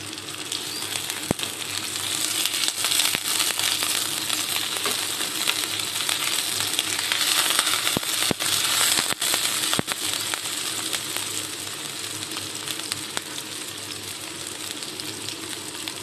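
Onions frying in a tablespoon of oil for a koi fish curry with potato and pumpkin bori, a steady loud crackling sizzle with scattered sharp pops and light stirring, no talking.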